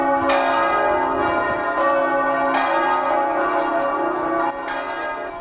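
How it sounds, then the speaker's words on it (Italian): Big church bell in the town square of Ariano tolling, several slow, resonant strikes with long ringing decay between them, fairly loud and heard from a middle distance. "I rintocchi del campanone della piazza accolgono l'arrivo degli appassionati di Fuoristrada"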